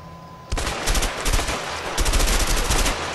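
Rapid automatic rifle fire in the co-op game A Way Out, a sudden loud burst of close shots that continues in fast repeated bursts with a brief lull.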